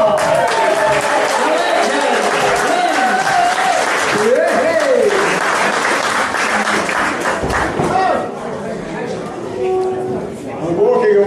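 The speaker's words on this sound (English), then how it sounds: "Would you welcome and great applause to Roland Stoller?" An audience breaks into loud, sustained applause over music, with voices in the mix, tapering off near the end.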